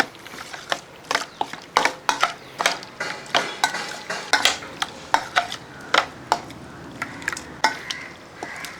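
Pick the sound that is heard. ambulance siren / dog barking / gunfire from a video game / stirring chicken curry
stirring chicken curry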